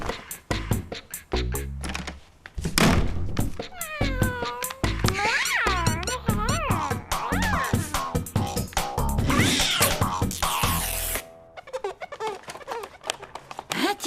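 A cat meows repeatedly in an animated cartoon, a series of loud, close, drawn-out wails and mews in quick succession, with a few short knocks between them.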